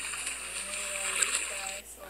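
A video-game character plunging into water gives a sustained, hissing splash that runs for nearly two seconds at steady loudness, then cuts off abruptly, with a faint voice underneath.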